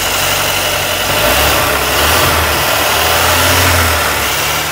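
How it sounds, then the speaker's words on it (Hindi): A 2022 Mercedes-Benz GLA 35 AMG engine runs steadily at a loud, close idle, with a low rumble and a mild swell in revs partway through, no talking over it. "अब मैं आपको इसके इंजन की साउंड सुनाता हूँ"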